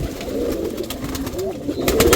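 Giribaz pigeons cooing in a loft in Rajshahi, low soft rolling coos repeating close by against a busy background.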